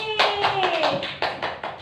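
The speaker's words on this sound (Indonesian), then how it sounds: "tepuk tangan untuk Dini" Children in an elementary school science class clap for a classmate, a brief burst of close, distinct handclaps in an uneven rhythm, with a voice briefly audible at the start.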